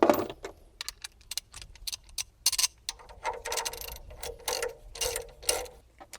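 A ratchet wrench with a 10 mm socket works on a BMW E36 325 TDS. Short, irregular bursts of quiet clicking ticks are broken by brief pauses and sound close by.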